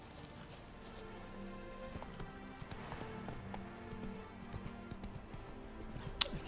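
Roach, the horse in The Witcher 3, gallops in a steady rhythm of clip-clopping hoofbeats, quiet and slightly distant, with game music playing underneath.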